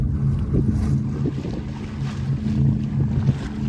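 A sailboat races close-hauled in a 12-knot breeze, with a steady rush of wind and water against the hull and a low, continuous hum throughout, close and fairly loud.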